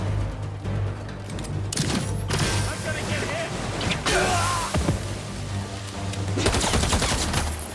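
Heavy bursts of machine-gun fire from big guns in the Spider-Man 2 video game, sustained rattling volleys with booms and clanks mixed in, loud and close, with characters talking over the shooting.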